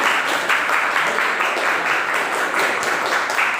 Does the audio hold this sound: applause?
yes